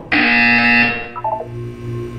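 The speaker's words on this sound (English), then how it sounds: "When you hear the buzzer, look down at the floor." A loud electronic buzzer from the Portal 2 video game holds a steady harsh tone for nearly a second, followed by a few softer, shorter tones over a low hum.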